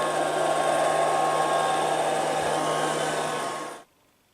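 A Liectroux B3000 robot vacuum cleaner sweeping a room, giving off a steady, close whirring hum that holds even for several seconds and then cuts off abruptly into silence.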